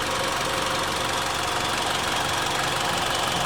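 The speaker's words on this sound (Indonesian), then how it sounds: "untuk mesin dari si Outlander Sport yang satu ini, nah dia bisa dikatakan cukup responsif" A Mitsubishi Outlander Sport engine runs steadily at idle, heard up close under the open hood as a continuous even mechanical hum and rattle without pauses.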